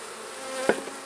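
Honey bees hum steadily in an opened hive during supering, a close, continuous buzz with a couple of faint knocks near the end.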